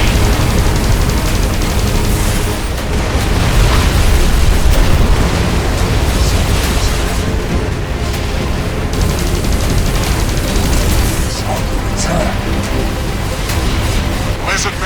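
A Lizard missile launcher explodes in X-Morph: Defense, one sustained, loud, low-heavy blast and rumble that fills the whole stretch. Dense battle noise surrounds it, and a voice speaks over the top.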